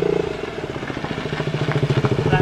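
A motorcycle engine pulls up nearby, its loud, steady pulsing exhaust rumble rising slightly as it arrives, with faint clattering over the idle.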